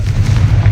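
A Confringo fire spell explodes in the video game Hogwarts Legacy, a short, loud, deep blast with a rumbling low-end body.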